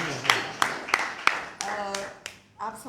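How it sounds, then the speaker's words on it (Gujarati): Audience applause at a literary talk session, a few sharp scattered claps repeating roughly every third of a second, mixed with brief voices. "ખૂબ તાળીઓથી એમને વધાવી લઈએ."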